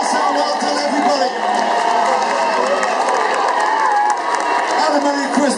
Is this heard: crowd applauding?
yes